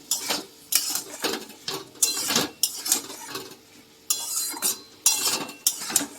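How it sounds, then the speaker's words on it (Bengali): A utensil scrapes and clinks rhythmically against a pan, over a soft sizzle, as spiced fig curry with garam masala is stirred and fried, with repeated strokes close by. "আরও 5 মিনিট ভালো করে এটা কষিয়ে নেব।"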